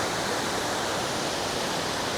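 A large waterfall roars in a steady, loud, unbroken rush of falling water, heard close up with no voices.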